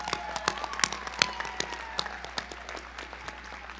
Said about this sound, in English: I want you to clap for the people that helped you get where you got today